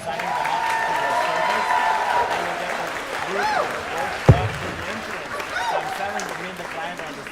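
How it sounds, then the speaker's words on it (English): Steady applause from an audience at a day school's 50th anniversary celebration in Ann Arbor, a sustained wash of clapping with voices and brief tonal sounds mixed in and one sharp knock partway through. "Huge round of applause to Tamar Jacobson"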